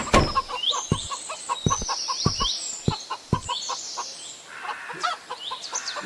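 A chicken clucking in repeated short bursts with sharp knocks and thumps between them, close by and fairly loud, with no speech.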